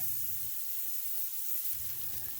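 Bacon strips sizzle on a black ballistic griddle set on a Big Green Egg, a steady close hiss and crackle that drops away briefly in the middle before resuming.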